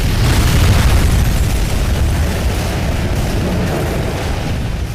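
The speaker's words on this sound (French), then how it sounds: "se faisant sauter avec Kagan à l'aide d'une grenade" Grenade explosion in the video game BloodRayne 2, a loud, dense roaring blast that fills all five seconds and decays only slightly.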